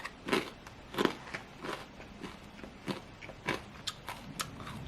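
Close-up crunching as a wasabi-glazed dry roasted peanut from an MRE is bitten and chewed, a handful of sharp crisp crunches that fade into softer chewing, quiet and alone.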